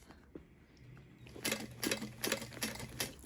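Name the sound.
sewing machine stitching an iPad sleeve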